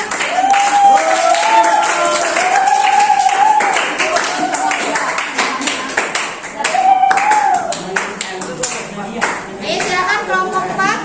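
A classroom group of students applauds another group, with steady, dense hand clapping mixed with children's voices and chatter throughout, a teacher's voice rising briefly over the noise.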